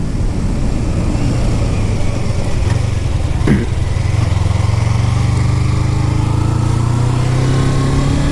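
A Kawasaki Ninja 250 motorcycle engine runs close by with a steady buzzing drone and a brief blip of revs midway, loud and continuous with no voices.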